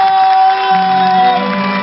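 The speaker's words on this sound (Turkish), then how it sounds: "alkışlar!" Crowd at an outdoor municipal concert event in Turkey cheers and shouts loudly, a dense, close roar of voices sustained for a couple of seconds.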